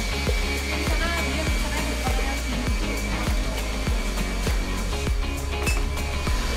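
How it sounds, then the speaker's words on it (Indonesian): An electric mixer runs at high speed through choco ball batter, giving a steady close whirr with regular light knocks of the beaters against the bowl and no talking. "Lalu kita ketika sudah tercampur semua, kita aduk dengan kecepatan tinggi sampai dia kental berjejak ya."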